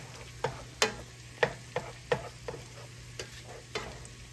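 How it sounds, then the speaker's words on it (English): Scrambled eggs with potatoes cook together in one skillet, a soft sizzle under a series of sharp scrape-and-stir knocks from a utensil against the pan, roughly evenly spaced and close up. "We're gonna cook our scrambled eggs right here in this corner."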